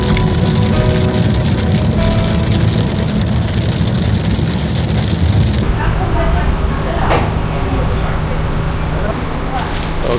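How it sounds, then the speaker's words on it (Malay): Heavy rain falling steadily in a constant loud hiss, heard close and continuous, with a vehicle engine rumbling beneath it and people talking over the downpour. "hujan lebat mulai turun"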